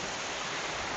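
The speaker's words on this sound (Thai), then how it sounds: "เบิ่งอายน้ำตกดิ" Water pours down the Tad Thong waterfall in Thailand, making a close, steady, full roar with no other sounds.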